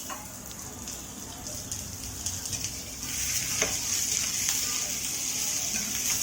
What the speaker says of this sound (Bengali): পেঁয়াজের সাথে আলুটা এখন কিছু সময় নিয়ে ভেজে নিব।